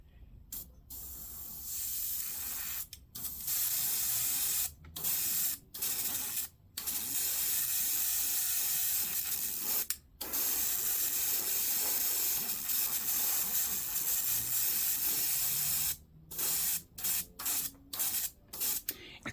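A Gaahleri Mobius-SP siphon-feed airbrush spraying in strong bursts of loud, close air hiss, some long and some short, separated by abrupt silences.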